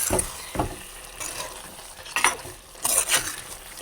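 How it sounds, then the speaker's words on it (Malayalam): A tuna curry stirred in a pan, irregular scraping strokes and light clinks of a spoon against metal over a faint simmer, close by, with no one talking. "നന്നായിട്ടൊന്ന് ഇളക്കി കൊടുക്കാം"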